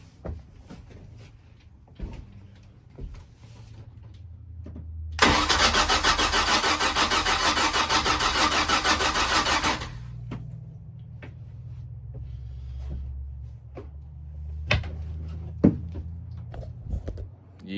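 A Sea Ray boat engine troubled after winter storage, with scattered clicks and knocks, then about five seconds of loud continuous cranking or running that cuts off, followed by more handling clatter.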